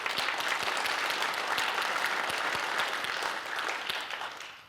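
A room full of people claps steadily in appreciation of event organizers, a dense, even round of applause that eases off slightly toward the end.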